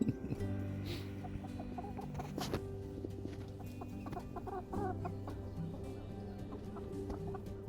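A nine-week-old young rooster among chickens attempts an awkward, broken crow, with steady clucking and hen chatter from the flock in the background at close range.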